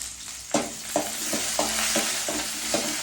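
Garlic and onion sautéing in groundnut oil, a steady close sizzle with about six sharp stirring scrapes spaced roughly half a second apart, no voices.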